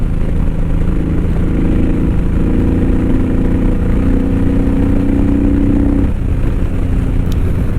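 A Honda VTX1800 cruiser motorcycle runs at about 90 mph and roughly 4,000 RPM, a loud, constant engine drone with wind roar and a steady held tone, unbroken and with no voices.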